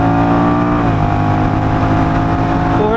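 A Honda Rebel 1100 DCT motorcycle at full throttle on a top speed run, a loud, steady engine drone with harmonics holding and shifting slightly, heard close over wind rush.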